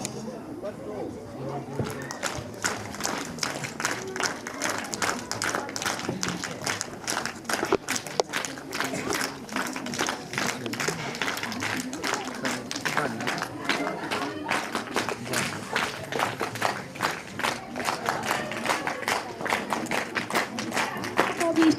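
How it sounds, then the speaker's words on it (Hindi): Sustained clapping from a crowd at a stage event honouring guests, steady and energetic, with someone talking over the applause through a loudspeaker. "जोरदार ताली के साथ उनका सम्मान।"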